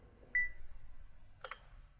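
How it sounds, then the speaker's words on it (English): From a Leica Q camera, a quiet electronic beep and then, about a second later, a brief soft click of the shutter, both faint and close with no voices. "That is the shutter sound."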